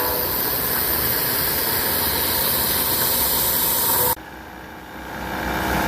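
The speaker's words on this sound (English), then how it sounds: "Cutting that 11-inch hole out." A CNC mill cuts an 11-inch hole, throwing thick chips. A loud, continuous grinding hiss holds steady, then drops abruptly near the end and slowly builds again.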